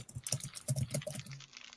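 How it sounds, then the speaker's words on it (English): Rapid, hard typing on a computer keyboard, with close, sharp key clacks in an uneven burst that stops abruptly, with no talking over it. "Oh, who's typing hard?"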